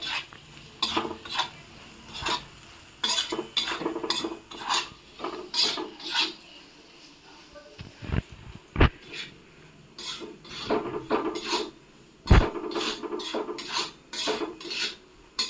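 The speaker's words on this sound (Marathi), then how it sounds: "एक 2 मिनिटं आपल्याला व्यवस्थित हलवून घ्यायचे बघा गवारी।" Cluster beans (gavar) stirred and scraped around a pan with a utensil, giving repeated rasping strokes and metallic clinks in an uneven rhythm, close and fairly loud, with no voices.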